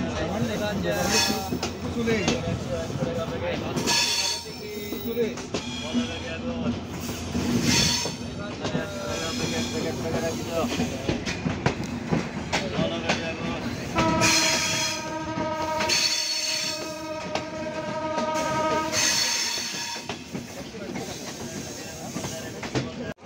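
Chitra Express train pulling out of Poradah Junction railway station, loud and continuous, with rolling wheels, squealing and hissing and a clickety rhythm, while voices murmur around it.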